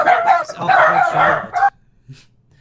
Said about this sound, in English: I apologise, dear viewers, for the dogs. They seem to be unusually loud.